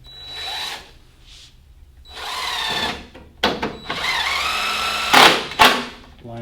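Power drill driving screws into a sewing workstation during assembly, several short whirring bursts of varying length separated by brief pauses, close and fairly loud, with light handling knocks between runs.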